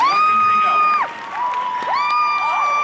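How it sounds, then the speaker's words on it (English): A convention panel audience screams together in a loud burst of high-pitched shrieks and cheers, which dips briefly and then surges again. "give us one big scream all at once."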